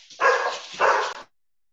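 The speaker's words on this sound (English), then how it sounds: "Sorry about that. That was my dog." A dog barks twice indoors, two loud, close, harsh barks about half a second apart, then silence.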